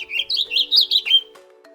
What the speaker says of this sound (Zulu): Uyezwa ukuthi inyoni icula kanjani?